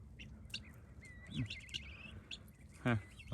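Faint, thin high peeps and chirps come in short bursts over a quiet, low background, with a couple of brief soft voice-like sounds.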